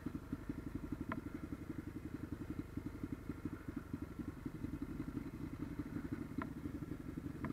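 A trail motorcycle engine runs steadily and close by, with a rapid, even mechanical chatter that stays constant throughout, broken by a couple of faint clanks.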